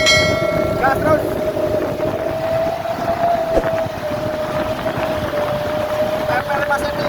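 A Setia Negara bus sounds a ship-style horn: a long, steady, droning tone held for several seconds over road and engine noise.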